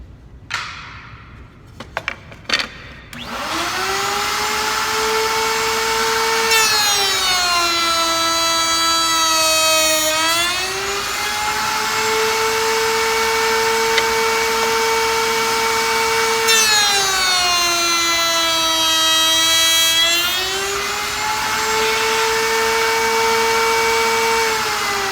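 A wood router cuts rabbets into wood for an end table, whining loudly and steadily as it spins up, then dipping in pitch each time the bit bites into the workpiece across two long passes, with a few brief knocks at the start.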